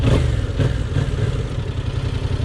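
A motorcycle engine runs close by with a steady, rough low rumble and faint mechanical clatter, holding an even pitch for the whole stretch with no voices.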